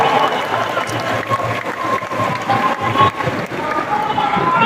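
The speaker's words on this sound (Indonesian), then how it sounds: "Tepuk tangan untuk para pejuang reformasi kita." A crowd at a political rally marking 25 years of reform applauds, a dense sustained roar of clapping and cheering mixed with crowd noise, loud and close throughout.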